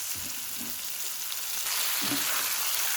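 Shing fish frying in a pan gives a steady sizzle that swells louder partway through, with a few soft knocks in the pan and no talking.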